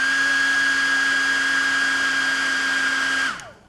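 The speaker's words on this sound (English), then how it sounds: "There's a hair dryer in case you need to dry your hair." A hair dryer blows with a steady, loud whine for a few seconds, then switches off and winds down.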